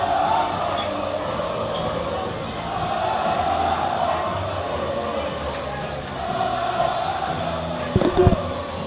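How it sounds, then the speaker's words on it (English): A high school basketball crowd in a gym roars steadily, with the student section loud and excited and the rest of the fans joining. A few sharp thumps sit near the end. "The stud section is going crazy, and so is the rest of the crowd."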